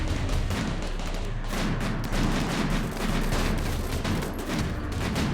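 Sustained minigun fire from a goblin in the game Rimworld, a dense continuous rattle of rapid shots with booming low end, loud and steady throughout without talk.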